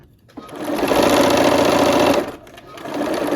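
Close, loud sewing machine stitching a quilt block seam, whirring in one sustained run of about two seconds before slowing and starting again briefly.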